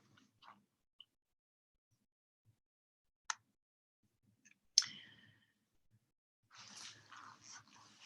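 Sparse, quiet mouse clicks sound one at a time with long gaps, then faint rustling or handling noise follows.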